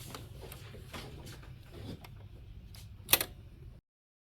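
A sewing machine top-stitches the fabric of a marble maze fidget toy in quiet, rapid ticking bursts, with brief pauses and one sharper clack near the end before it stops.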